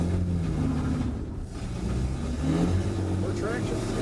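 A Nash car running and driving on the road, its engine giving a steady, close droning rumble throughout, with faint harmonic whine rising near the end; talk is heard over the engine.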